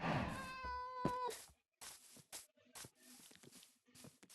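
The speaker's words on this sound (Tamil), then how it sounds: "இந்த இடத்துல பூனை குட்டியெல்லாம் நிறைய இருக்குது." A cat meows in a Minecraft game, several drawn-out harmonic cries up front followed by shorter, fainter mews and soft game noises in a quiet stretch.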